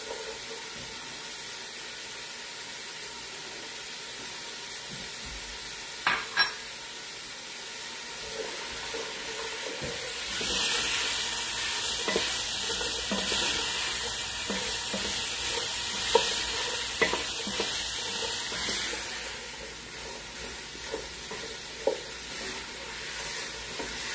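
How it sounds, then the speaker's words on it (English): Carrots, celery and other vegetables are stirred in a pot of beef short rib barley soup. Soft scraping and shuffling run over a steady sizzle, with a few sharper clinks and a brighter spell of hiss partway through. "And we give a little turn of the carrots and everything."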